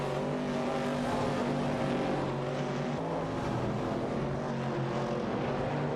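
Engines of a Chevrolet Camaro 70 and a Porsche 906 in a racing video game roar in a steady, dense, unbroken drone, loud and continuous throughout.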